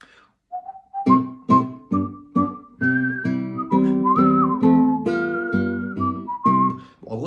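Opening phrase of the French national anthem, La Marseillaise, whistled solo as a bright, clear melody of quick separate notes, close and alone.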